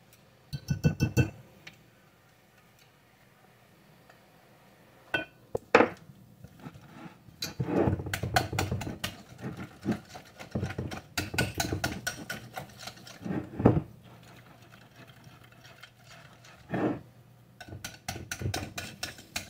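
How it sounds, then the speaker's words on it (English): A whisk clinks and taps against a bowl while mixing breakfast batter, in irregular bursts of quick metallic ticking separated by short pauses, close and fairly loud. "You just kind of whisk it until you got most of your lumps out"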